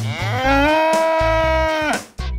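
Very small bull on a farm lets out a loud, close, drawn-out grunting roar lasting about two seconds, rising and holding a rough tone before breaking off, followed by a short huffing grunt.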